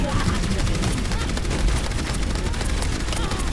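Rapid continuous gunfire from a turret in Overwatch, a dense unbroken stream of shots rattling for several seconds, loud and close, with a voice talking over it.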